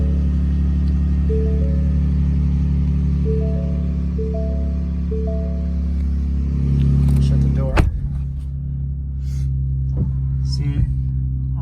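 A Ford F-150 Shelby Baja Raptor cranks and starts with a burst, after a steady chime pattern over a low hum, then settles into a deep idle rumble nearby.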